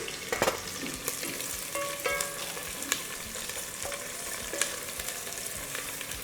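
Drumsticks and green chillies with finely chopped onion frying in a pan for drumstick sambar, a steady close sizzle with occasional stirring clinks, no talking.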